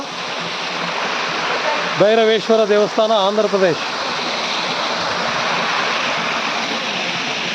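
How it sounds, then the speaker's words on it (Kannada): Bhairavakona waterfall beside the Bhairaveshwara temple in Andhra Pradesh, running thin in the dry summer, gives a steady broadband rush of falling water throughout, with someone speaking briefly over it. "ಭೈರವಕೋಣ ಜಲಪಾತ"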